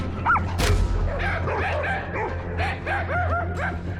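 A small dog yapping in rapid, excited barks and whimpers indoors, several short yips spread through the clip over a steady background hum.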